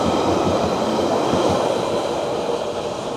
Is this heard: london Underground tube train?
yes